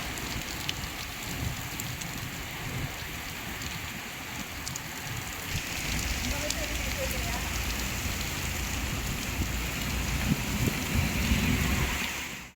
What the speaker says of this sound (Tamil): பலத்த காற்றுடன் மழை கொட்டியது